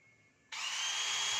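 A DeWalt DCD796 18V cordless drill switched into drill mode: after a brief quiet hum it abruptly spins up to a loud, steady, high-pitched whirring motor sound that continues to the end.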